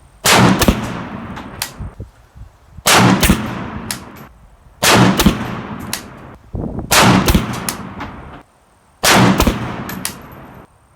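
Five separate bursts of loud, close gunfire from a PSA AK-P 7.62x39 pistol, each a quick cluster of shots with sharp reports and ringing decay, spaced about two seconds apart, fired with the barrel hot from repeated strings.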